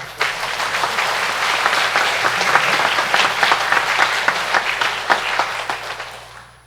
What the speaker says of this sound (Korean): 성가대 박수 한번 주시죠.